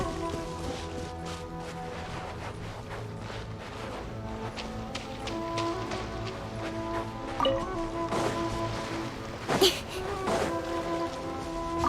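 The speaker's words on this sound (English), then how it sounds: "Quite a downpour. Nothing will get done until it clears." Heavy rain downpour in the video game Genshin Impact, a dense steady hiss of falling water with scattered sharper impacts and a louder splash near the end, heard alone without talk.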